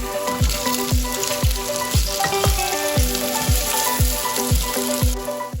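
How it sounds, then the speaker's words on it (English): Cubed medium potato fries in two tablespoons of hot cooking oil with a steady bright sizzle, heard under rhythmic background music with a regular low thumping beat. "Heat 2 tablespoons of cooking oil. Add 1 cubed medium potato."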